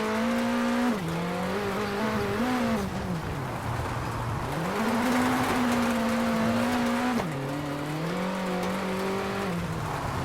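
Rally car in the WRC 8 video game driving and braking, with a continuous engine drone that rises and falls through gear shifts, dipping as the car slows and climbing again under acceleration, close and steady.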